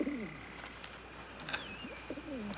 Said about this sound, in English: I hear the voice of a bird.